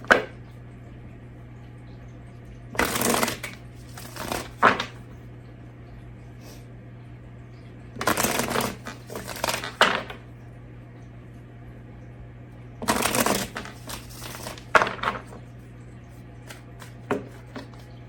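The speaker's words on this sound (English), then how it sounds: "okay, stop shuffling" Tarot cards shuffled during a reading: three short bursts of riffling and flicking cards, each a second or two long and spaced several seconds apart, fairly close over a low steady hum.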